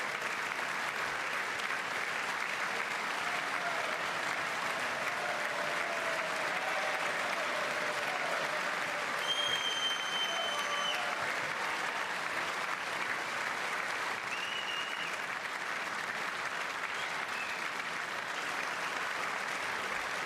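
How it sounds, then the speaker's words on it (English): Long, steady ovation at the State of the Union, a dense, even roar of clapping from a big audience that never lets up, with faint murmuring and a few brief tones beneath. "All right, bro, that's enough clapping."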